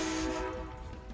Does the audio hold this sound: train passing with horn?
yes